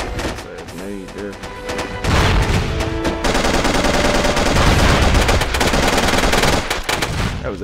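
Automatic gunfire in the online shooter SOCOM 2, loud rapid machine-gun bursts dominating the second half, with voices and game chatter underneath at the start.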